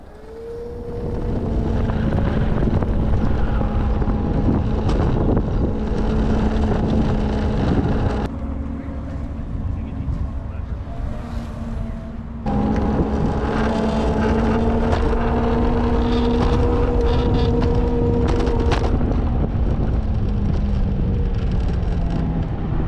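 A Honda Motocompacto electric scooter is ridden outdoors, giving a loud, steady electric motor whine that rises in pitch, mixed with rushing wind noise on the microphone and a short dip midway through.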